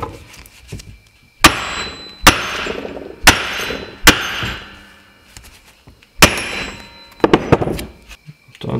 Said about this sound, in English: So what we're gonna do is we're gonna hammer it one more time.